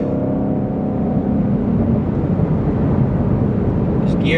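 A 2020 Shelby GT500 accelerates hard in a steady, loud engine roar that climbs through gear shifts, heard from inside the car with no talk.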